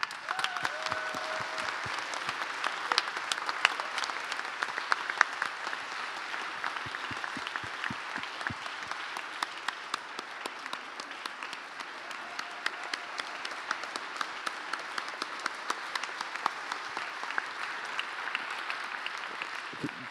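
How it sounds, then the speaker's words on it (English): An audience applauds at the closing ceremony of the FOSS4GE 2024 conference, a sustained round of many hands clapping at moderate volume for about twenty seconds, steady and unbroken. "I think you all know that Merle actually deserves like extra applause"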